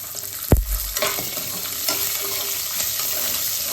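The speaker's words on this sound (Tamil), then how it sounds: "வெங்காயம் வந்து நல்லா பொன்னிறமா வறுபடணும்னு சொன்னாங்க." Garlic and shallots for a country chicken curry sizzle in hot oil, a sharp clatter as they go in followed by a steady close frying hiss.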